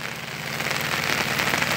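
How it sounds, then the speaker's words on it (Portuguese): Heavy rain falls over the São Francisco river, a dense, steady hiss of drops with a low engine hum beneath it, close and continuous throughout. "olha como é que tá chovendo"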